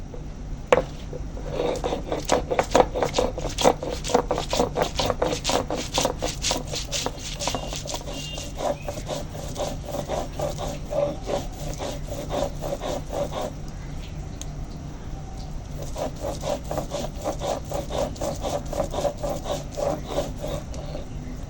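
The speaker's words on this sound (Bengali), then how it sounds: "এখন ধনে জিরে বাটা হয়ে গেছে" Cumin and coriander seeds ground by hand on a flat grinding stone, a rapid run of close, gritty rubbing and knocking strokes in a steady rhythm, pausing briefly midway before resuming.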